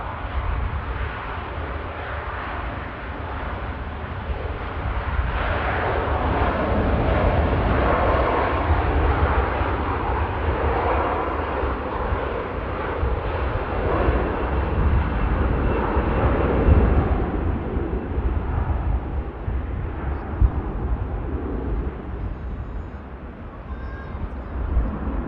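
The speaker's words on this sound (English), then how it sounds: "Hainan begins the journey to Beijing and commences the climb out from 23 left here at Manchester." A Hainan Airlines airliner bound for Beijing takes off and climbs out from runway 23L at Manchester Airport, its jet engines making a loud, broad, sustained rumbling roar that swells and then slowly eases as the aircraft pulls away.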